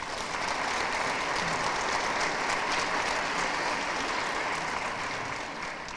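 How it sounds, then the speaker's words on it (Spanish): A large crowd at a hotel project launch ceremony in Punta Cana applauds the country's president, a continuous, even roar of many hands clapping heard from a distance, steady throughout with no speech over it. "para quien pido un fuerte aplauso"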